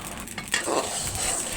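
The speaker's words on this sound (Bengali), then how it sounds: "এখন হচ্ছে সবগুলো উপকরণ ভেজে নিয়ে" Spices and other ingredients fry in a pan, heard close up as a brief scraping stir over a steady sizzle, with no voices.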